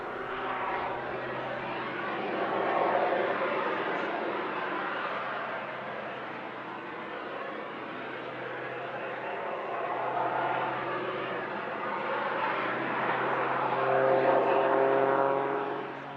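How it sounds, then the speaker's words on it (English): A propeller aircraft flies an aerobatic display at the Midlands Air Festival, its engine droning steadily at a distance, swelling and fading gently as it passes. "the torque of the propeller will induce the aircraft to start spinning slowly"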